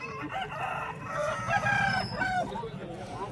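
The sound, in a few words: rooster at a poultry market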